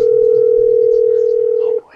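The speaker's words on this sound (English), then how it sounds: "So I decided to call Nicole as the person that found her bag with an interesting proposition" A steady telephone dial tone before a prank phone call, loud and continuous for nearly two seconds before cutting off abruptly.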